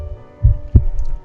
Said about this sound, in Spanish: el infernal latido del corazón iba en aumento